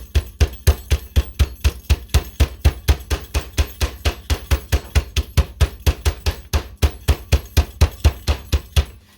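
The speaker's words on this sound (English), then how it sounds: "some people call it a meat hammer. You're gonna take your tenderizer here" A meat tenderizer hammer pounds chicken in a bag on a kitchen counter, a steady run of about forty dull, heavy thuds at a quick even rhythm, loud and close with no talk.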